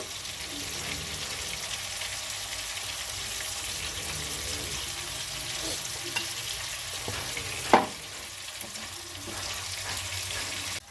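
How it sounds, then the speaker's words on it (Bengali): Paneer frying slowly in hot oil gives a dense, even sizzle throughout, with one sharp clink of a utensil partway through. "পনিরগুলো এবার দিয়ে আস্তে আস্তে ভেজে একটু লালচে হলেই পনিরগুলোকে আমি তুলে নেব।"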